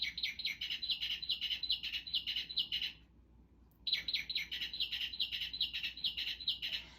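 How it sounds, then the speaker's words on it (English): A mockingbird sings a rapid, repeated series of bright chirping phrases, pausing briefly before resuming the same lively pattern; fairly close and clear. "So mockingbirds do mimic other birds, but they also have their own bird sound, their own song."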